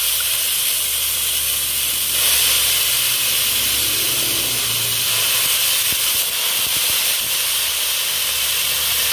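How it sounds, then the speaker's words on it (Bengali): Water poured into a hot pot of rice for basanti pulao on the stove raises a steady, broad hiss of steam and splashing that holds for several seconds, with no talking. "এবার আমি জল দিয়ে দেবো।"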